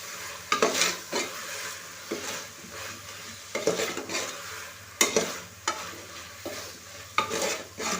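Mushrooms fry in a pan for biryani with a steady low sizzle, broken by repeated sharp scrapes and clinks of a spoon stirring against the pan at an irregular rhythm, close and clear.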